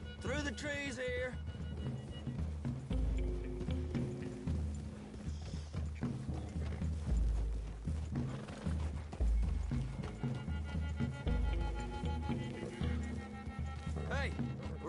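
Horses in Red Dead Redemption 2 clop along at a walk in a wooded clearing, steady hoofbeats with an occasional snort or whinny beneath game dialogue and a low musical score.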